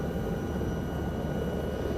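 Helicopter in Microsoft Flight Simulator 2024 flying over the Andes, a steady, even rotor and engine drone with low rumble and faint high whine, held continuously with no talk.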